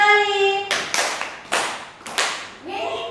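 Group clapping in a rhythmic pattern, three quick bursts of claps at steady intervals, loud and close in a room, with a voice speaking before and after.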